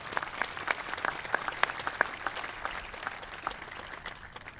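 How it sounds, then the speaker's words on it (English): Audience applause at the grand opening of a university precision agriculture center: a steady patter of many hands clapping, fairly distant and even, holding for several seconds with no voices. "I'd really appreciate everyone if you'd please applaud these folks"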